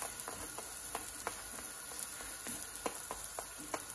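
Oil sizzles steadily as dal puri fries in a frying pan, with repeated sharp crackles and pops over a constant hiss.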